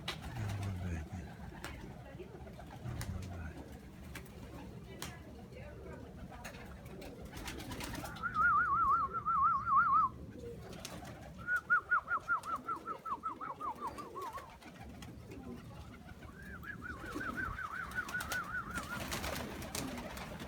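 Young pigeons cooing in a loft on a windy day: a few soft, rolling coo bursts in the middle and near the end over low rumble and faint handling noise.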